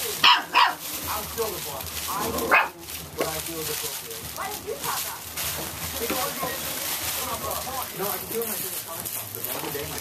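Young briard puppies yap and bark during a chaotic evening playtime, a few sharp barks up close at the start, then scattered lighter yips while people chat nearby.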